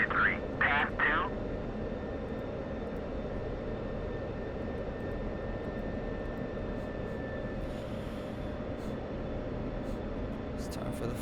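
An F-16CM jet taxiing toward the runway in Digital Combat Simulator, its engine making a steady, continuous roar throughout, with brief bursts of voice near the start.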